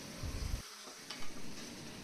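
Chicken curry sizzles in a pan over a high flame, a brief burst of stirring and frying up close that quickly settles into a quieter simmering hiss, with no talk.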